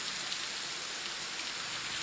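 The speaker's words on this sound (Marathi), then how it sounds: "वातावरण कंटिन्यू असंच पाऊस पडतोय" Continuous monsoon rain falling steadily, a dense even hiss of drops on surfaces with no breaks or thunder, moderately loud and close.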